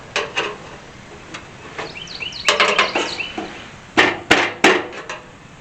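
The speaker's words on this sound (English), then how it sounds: "Then you just push it on with a screwdriver the rest of the way." A lock ring is pushed onto a 1964 Ford Falcon part with a screwdriver, giving sharp metallic clicks and knocks in scattered bursts, some quick taps close together, near and fairly loud.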